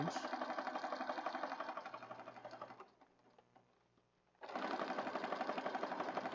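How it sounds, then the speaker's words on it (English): A sewing machine stitches around paper scraps on a journal card in a steady, fast rhythmic whir, pausing briefly midway before resuming at full speed; no talking. "Got that stitched all the way around."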